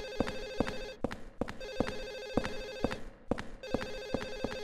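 A telephone rings in the Silent Hill 4 video game, a bright electronic bell repeating in quick double bursts with short pauses, loud and close with no talk over it.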